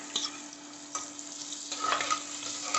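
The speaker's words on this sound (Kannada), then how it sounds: "ಈರುಳ್ಳಿ ಫ್ರೈ ಆಗಲಿ ಚೆನ್ನಾಗಿ." Onions frying in hot oil in a pressure cooker for chicken masala, giving a steady close sizzle with light crackles and occasional stirring clinks.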